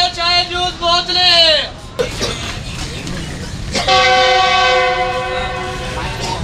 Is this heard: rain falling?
no